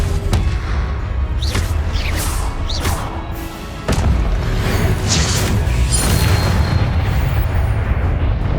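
Spell effects from Hogwarts Legacy combat, a string of booming blasts and whooshing bursts, a few sharp cracks among them, layered over a continuous rumbling battle backdrop for several seconds.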